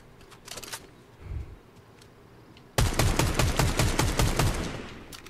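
Rapid gunfire in Fortnite, a burst of loud, evenly spaced shots starting abruptly after a quieter stretch with a few faint distant cracks, alone without talk.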